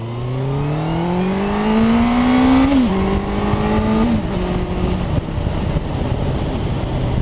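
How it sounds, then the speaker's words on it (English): A Honda CBF1000F motorcycle exhaust pulls away and accelerates through several rising gear sweeps, loud and close and alone, with the engine note climbing, dropping at each shift, then holding steadier. "Sounds brilliant, that exhaust."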